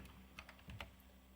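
Several quick key presses on a computer keyboard attached to a Pentium 4 PC running Windows 98, producing soft, close clicks in an irregular burst with low background hum.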